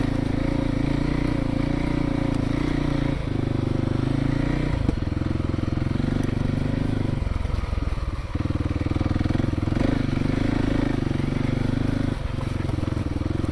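A Kawasaki KLX300 dirt bike rides along a trail being cleared, its single-cylinder engine droning loud and close with brief throttle chops and revs rising and falling.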